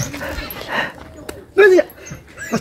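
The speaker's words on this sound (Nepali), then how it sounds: "खोइ यो कुकुरले टोक्लाइ जस्तो गर्छ उता" A village dog that seems ready to bite gives a brief bark and whimper, short yelping bursts close by amid people talking outdoors.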